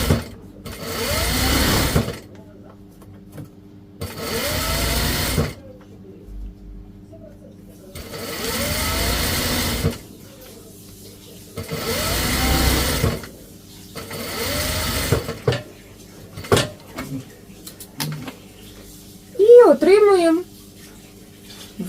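A sewing machine stitches stretched elastic onto a dress sleeve in several loud, steady bursts of a few seconds each, separated by pauses, with someone talking briefly near the end.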